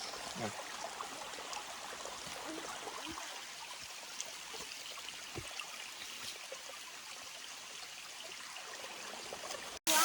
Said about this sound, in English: It's a cute little waterfall